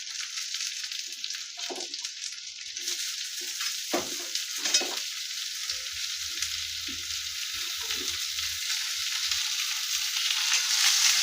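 Ridge gourd tipped into onions frying to a reddish colour, a steady loud sizzle with irregular scraping stirs throughout and a low rumble building toward the end; no voices.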